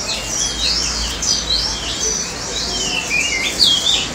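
Caged birds at the Mong Kok bird market in Hong Kong chirp and tweet continuously, many quick high calls overlapping close by, with a low hum of crowd noise beneath.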